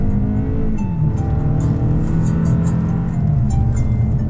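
A 2019 Toyota Camry XSE engine pulls steadily under acceleration, a continuous droning rise in revs heard from inside the car, loud and unbroken with no voices.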